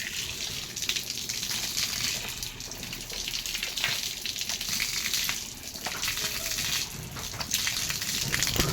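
Tap water running and splashing steadily while someone washes their face after brushing teeth, a close, continuous hiss with small splashy fluctuations.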